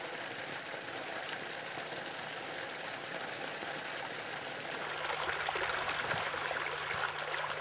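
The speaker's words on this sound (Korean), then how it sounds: "매일 양수장을 통해 뿜어나온 물은 작은 도랑을 따라 전답 곳곳으로 흘러가" Pumped water runs steadily along a small irrigation ditch through desert farm fields, a constant close trickling rush, with a low engine-like hum joining in partway through.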